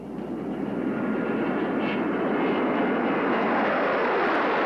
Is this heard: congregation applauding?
no